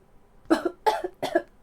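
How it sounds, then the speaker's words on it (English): Three quick, harsh coughs in a row, close and loud, with short pauses between them. "Walter started coughing again."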